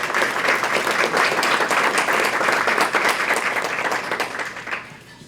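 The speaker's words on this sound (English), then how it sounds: "So while we're continuing the clapping, I feel like we should all give ourselves a round of applause" Audience applause at a wellness event held with McLean Hospital, a dense, sustained roar of many hands clapping, close and loud for several seconds before tapering off at the end.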